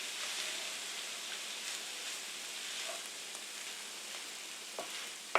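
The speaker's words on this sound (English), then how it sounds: "Now we're just going to stir this up a bit" Hamburger meat and melting cheese sizzle quietly in a pan over low heat, a steady soft frying hiss with a few light scrapes of stirring.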